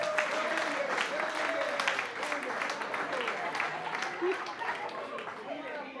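An audience applauds at a wedding comedy show, the clapping and crowd noise steady beneath a voice that talks over it.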